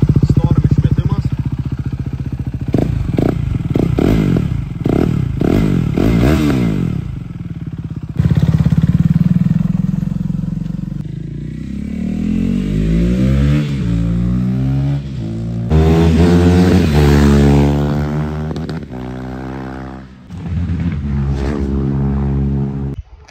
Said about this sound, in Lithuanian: kaip matėt, pratestavau motociklą, viskas važiuoja puikiai